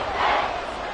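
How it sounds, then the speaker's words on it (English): The crowd at Arrowhead Stadium roars during an NFL game against the Patriots, a dense, loud, sustained wall of cheering voices. "The Arrowhead crowd in full roar"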